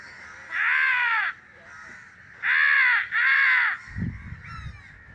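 Crows answer a boy who calls them by imitating their caws outdoors: three loud, drawn-out harsh caws, the last two back to back, followed by fainter chatter and rustling.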